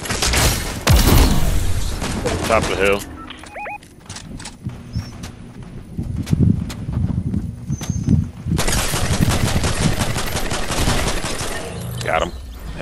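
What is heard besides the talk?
gunfire in the video game Fortnite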